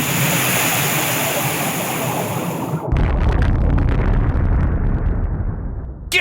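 Torpedo explosions strike the battleship USS Oklahoma in a dramatized Pearl Harbor attack: a loud, sudden blast bursts in a few seconds into ongoing roaring noise, followed by a sustained rumbling, crackling aftermath and a sharp final pop.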